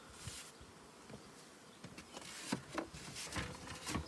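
Honey bees buzz steadily around a beehive fitted with a bottom pollen trap, a dense droning hum with occasional louder passes as individual bees fly close by.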